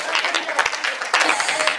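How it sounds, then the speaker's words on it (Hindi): An audience bursts into brief, loud applause that carries straight through someone speaking. "यहाँ ताली बजती दादा"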